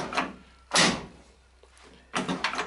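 A ZAZ Slavuta car door with a newly fitted, adjusted lock is opened and shut, giving a short latch click, a firm thudding close and another rattling clunk, near and clear with no talk.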